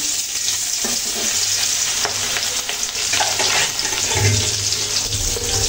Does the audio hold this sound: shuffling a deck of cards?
no